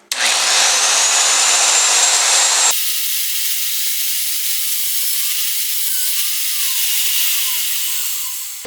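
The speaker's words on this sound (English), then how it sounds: "That's why I got to drill a 1/2-inch, because it's already got a 1/2-inch hole in here for the bolt" A 1/2-inch hole drilled through steel plate for a welding fabrication table: a loud, continuous high hiss and whine of the cutting bit that drops to a steadier, slightly lower grind partway through, close and uninterrupted.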